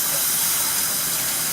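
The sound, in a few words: cold tap water running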